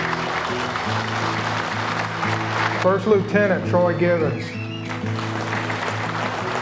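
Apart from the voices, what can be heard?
audience applauding heroes named at fishing tournament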